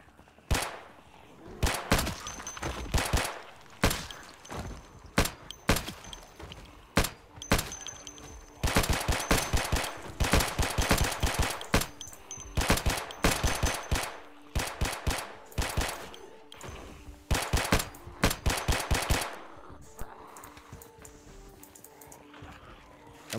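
Rapid bursts of gunfire from the zombie survival video game Project Zomboid, set outside Knox Bank, crack out loud and close in clustered volleys and single shots across the whole stretch, with brief gaps between bursts.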